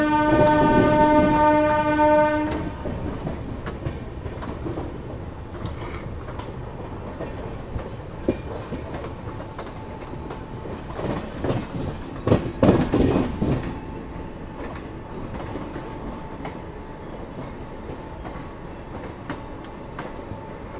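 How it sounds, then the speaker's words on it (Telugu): The Kongu Superfast Express rolls into Bhopal station, opening with a loud sustained horn blast, then a steady rumble and rattle of coaches with clattering bursts as it passes. "మన కొంగు కూడా ఎంటర్ అవుతుంది భోపాల్ స్టేషన్లోకి."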